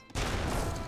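Massed musket volley from a battle in the Age of Empires 3 video game, a sudden dense crackle of many shots fired together that holds steady and loud through the clip.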